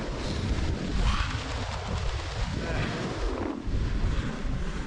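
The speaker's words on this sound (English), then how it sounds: "It's getting a bit windy now." Strong wind buffets the microphone on a foggy winter Scottish munro hillside, heavy low rumbling gusts that rise and ease, loud and close throughout.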